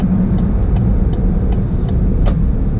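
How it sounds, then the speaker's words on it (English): A truck on the road passes a 2015 Chevy Spark EV, heard from inside the car as a steady heavy low rumble with road noise, loud and continuous, with faint faint ticks above. "And here comes a truck behind me, so time to speed up."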